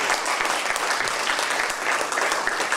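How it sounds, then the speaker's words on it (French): An audience at a poetry and spirituality gathering claps steadily, dense sustained applause from many hands filling the room without pause. "On peut les applaudir."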